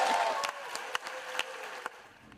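Applause on the US Senate floor after Democrats passed the Inflation Reduction Act: dense, steady clapping from a chamber crowd, fading slightly toward the end with a few sharper individual claps standing out.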